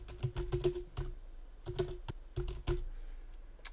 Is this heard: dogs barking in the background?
no